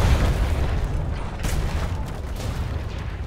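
Deep booming of ship cannons firing in the pirate video game Atlas, heavy low rumbles blurring together with a sharper report midway, loud and continuous with no talking over it.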